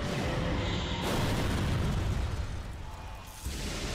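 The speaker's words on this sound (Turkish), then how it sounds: "Patlatacağız şimdi hepsini." An explosion blows up the toilets in the Skibidi Toilet animation: a sudden heavy boom bursts out, then a rumbling, crackling roar fades over a few seconds before a second thump, loud and with no speech.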